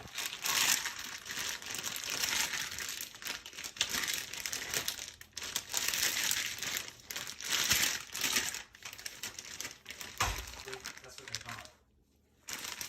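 Tortilla chips crinkle and crunch inside a plastic bag while being crushed for a jailhouse spread, a dense, continuous rustling with brief pauses, and a voice talks over it.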